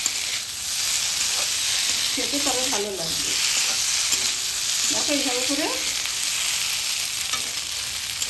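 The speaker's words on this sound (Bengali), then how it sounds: "এটাকে একটু ভাজা ভাজা করে আমি নামিয়ে নেব" Drumstick (sajne data) stems sizzle steadily as they fry in a pan for chorchori, with intermittent stirring scrapes and someone talking briefly between them.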